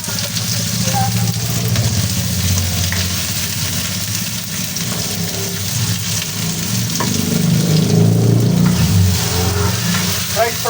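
Mixed vegetables including bell pepper frying in a pan for creamy chicken pininyahan, a steady loud sizzle running throughout with occasional stirring, and a voice talking over it.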